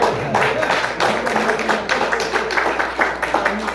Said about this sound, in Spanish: Un aplauso para el compañero.